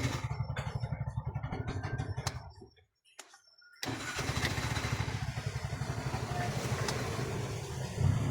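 Bajaj RE auto-rickshaw engine cranks and fires, runs steadily, cuts out briefly, then restarts and keeps running at a close, even idle.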